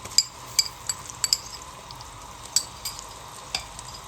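Ginger garlic paste frying with curry leaves and cumin for mash ki daal makes a steady low sizzle, punctuated by repeated sharp clinks of a spoon against the pan.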